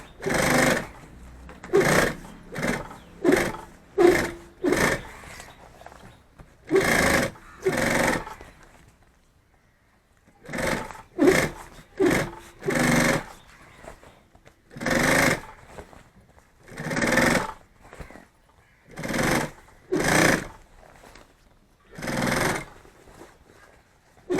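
A sewing machine stitching bags runs in short, repeated bursts of rapid mechanical whirring, each lasting about a second, separated by brief pauses and a longer gap midway.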